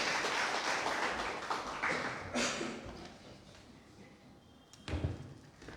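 Applause from an audience at a poetry gathering welcoming a poet onto the stage: dense clapping that thins out over a few seconds, with a couple of sharp thuds.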